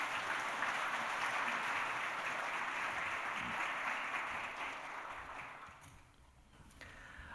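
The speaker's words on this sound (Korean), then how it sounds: "박수로 축하하겠습니다" A church congregation applauds to congratulate a Bible-study course graduate, steady clapping from a crowd in a hall that fades out after about six seconds.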